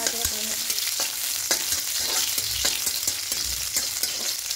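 Raisins lightly frying in oil in a wok for hilsa pulao, a loud continuous sizzle with the close, rhythmic scrape and tap of a spatula stirring them, no voices.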